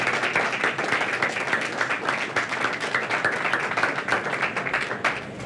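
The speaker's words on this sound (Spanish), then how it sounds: "¡Un aplauso!" Audience applause and clapping at a live comedy show, a dense, steady burst of many hands sustained throughout, fairly close and loud.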